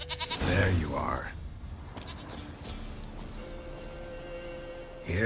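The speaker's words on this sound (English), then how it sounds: "Here, goat." A goat bleats in The Witcher 3: Wild Hunt, one loud bleat at the start with someone talking under it, then a steady low game ambience with a faint hum.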